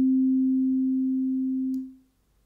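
A single sustained FM electric piano note from a Dexed DX7 software synth, a pure steady tone holding for nearly two seconds before fading quickly to silence, clean and alone.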